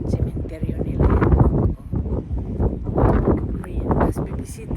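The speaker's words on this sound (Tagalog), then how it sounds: "Mahangin lang kaya ayaw ko nang masyadong mahangin." Outdoor wind in Iceland buffets hard and unevenly, rushing and gusting in loud low-frequency surges, with a person talking over it.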